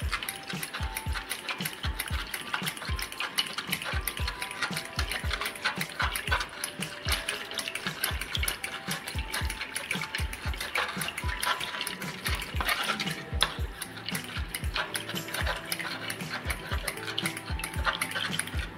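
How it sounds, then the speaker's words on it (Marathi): Lassi with malai being whisked in a bowl, a fast, continuous rhythmic clatter and slosh of the whisk against the sides, steady and close, with no talking. "अजून 1-2 मिनिटे आपण अशीच फेटून घेणार आहोत"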